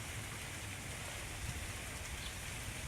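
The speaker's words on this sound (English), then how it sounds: "Yep, here comes the rain." Rain falls steadily during a storm, a faint, even hiss of drops on surfaces with a low rumble beneath, continuous and unchanging for a few seconds with no talking.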